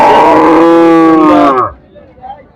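A cow gives one long, loud, close moo at a livestock market, then the call breaks off into quiet background noise.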